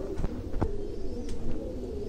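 Meerut breed pigeon cooing up close, a few soft low coos in quick succession over a faint background hum.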